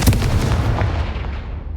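A Confringo spell explosion in Hogwarts Legacy, a single heavy booming blast with a deep rumbling tail that slowly fades over under two seconds, loud and close with no talk.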